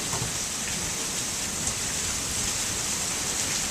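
Heavy rain pours down steadily during a large storm in Goodyear, Arizona, a dense, even hiss of drops hitting the ground, close and loud with no pauses and no voices.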